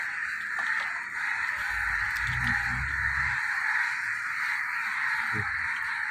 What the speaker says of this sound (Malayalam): കാക്കകൾ അങ്ങനെ പോകുന്നുണ്ട്